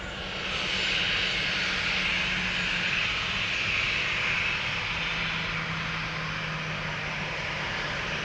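A departing airliner at Amsterdam Schiphol Airport: a steady, broad engine roar with a hissing whine, loud and sustained throughout, slightly swelling then holding.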